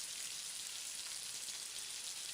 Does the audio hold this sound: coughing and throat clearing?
no